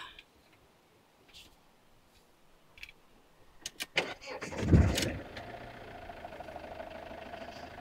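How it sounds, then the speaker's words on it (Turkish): A Fiat Ducato camper van engine cranks briefly and catches, then settles into a steady low idle, heard fairly close after a few faint ticks and clicks. "doğal olarak arabayı çalıştırmamız lazım"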